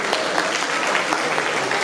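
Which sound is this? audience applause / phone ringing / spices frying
audience applause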